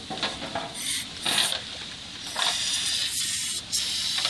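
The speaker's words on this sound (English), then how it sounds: "We'll take our carburetor cleaner." Carburetor cleaner hisses as it is sprayed through the jets of a carburetor from a Yamaha 20HP four-stroke outboard, several close, loud bursts of aerosol hiss running almost without a break.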